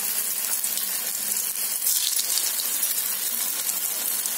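A potato evening snack shallow-frying in a little oil in a pan: a dense, steady, close sizzle that runs without a break.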